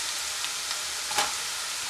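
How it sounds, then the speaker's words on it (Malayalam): Ginger and garlic frying in oil give a steady close hiss with soft crackles and one brief stir or scrape midway, a continuous sizzle for amla pickle tempering. "ഇഞ്ചി ഒന്ന് ചെറുതായിട്ട് മൂത്ത് കഴിയുമ്പോൾ വെളുത്തുള്ളി ചേർത്ത് കൊടുക്കുക"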